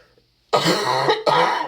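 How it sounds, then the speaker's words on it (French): Two loud, close coughs in quick succession after a short quiet pause, each a harsh, raspy burst. "tous ces morceaux-là où je tousse"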